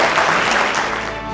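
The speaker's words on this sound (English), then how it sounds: "Everyone give him a round of applause." A short burst of audience clapping at a young innovators' event rings out briefly, dense and fairly loud, then begins to thin toward the end.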